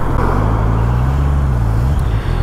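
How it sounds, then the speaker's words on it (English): Road traffic noise while driving in Scotland near Kilmarnock: a loud, steady rumble of engine and tyres, with a low drone that holds and then dips near the end. "we're gonna catch this traffic as well."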